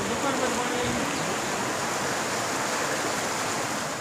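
Floodwater rushes through a village street in Khambhalia, Dwarka, after heavy rain in Saurashtra, a steady, loud broadband wash of flowing water with no voices.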